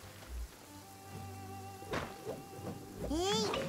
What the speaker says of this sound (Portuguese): tá chovendo aqui também